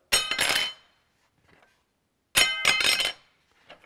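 A solid carbon fiber guitar neck reinforcement rod is dropped onto a table twice, each drop giving a sharp bright clatter with quick bounces, separated by a couple of seconds of quiet.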